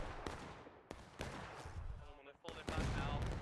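Cannon shots from an artillery battery in the Civil War game War of Rights, heard as a few sharp, booming reports spaced apart and fairly faint, mixed with voices talking.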